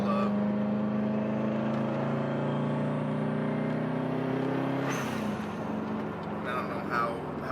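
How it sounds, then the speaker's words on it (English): A 2002 Subaru WRX turbo spools up while driving at light throttle, its engine drone holding steady and building, close and continuous inside the car with a shift in tone near the end. "So you can really hear that turbo spool up."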